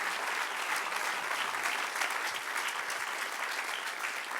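Sustained applause from a church congregation, an even crackle of many hands clapping throughout, fairly soft and uninterrupted.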